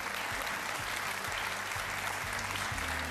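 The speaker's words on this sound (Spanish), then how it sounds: "entre tanto aplauso" A television studio audience applauds during a live interview show, dense sustained clapping filling the whole stretch at an even, fairly loud level.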